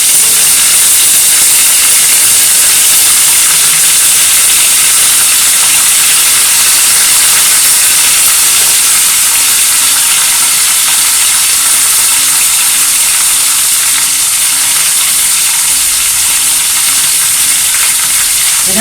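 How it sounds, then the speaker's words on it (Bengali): Whole vegetables dropped into a hot pan for a Bengali fish curry give a loud, steady hiss and sizzle that carries on evenly, close by, with no talking. "এই দেখো, সবজিগুলো এবার দিয়ে দেবো।"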